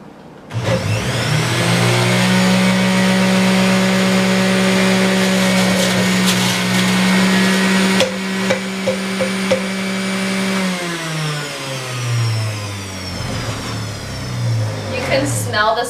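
Electric juicer running steadily as it processes fresh cilantro, a loud motor whine holding a constant pitch for most of the run, then sagging and dropping in pitch near the end, with brief rattles from the greens and a voice speaking.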